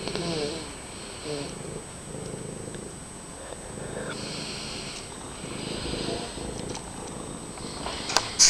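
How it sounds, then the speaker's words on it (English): A cat purring softly up close, a low continuous rumbling pulse with quiet household background and faint murmurs of people nearby. "Or is he purring?"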